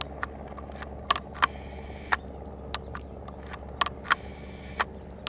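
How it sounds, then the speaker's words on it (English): Sharp mechanical clicks of an 8x10 large-format film camera shutter being fired, repeated about ten times at irregular intervals over a low steady background hum, with no talking. "I'm just gonna do a couple more little tests to make sure the shutter's not gonna stick."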